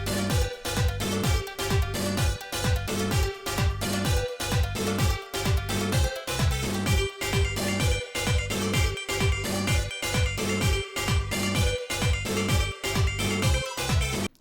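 Upbeat instrumental dance track without vocals, driven by a steady punchy beat and layered synths, playing loud and continuous throughout.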